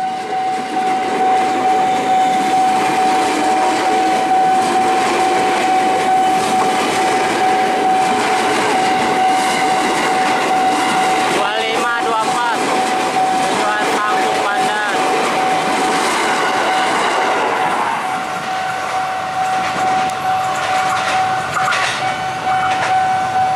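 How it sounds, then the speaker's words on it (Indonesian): A train from the Pasar Senen direction passes the JPL 46 railway level crossing at Pondok Jati, East Jakarta, with a loud, close rushing roar, a steady crossing bell tone and brief wheel squeals, as people talk nearby. "Persiapan nih melintas langsung kereta api dari arah Pasar Senen"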